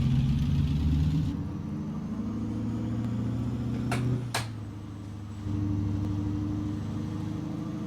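In American Truck Simulator, a heavy truck with 625 horsepower hauls a load of about 74,970 pounds, its engine giving a steady, loud, low drone that shifts pitch partway through, with two brief sharp clicks near the middle.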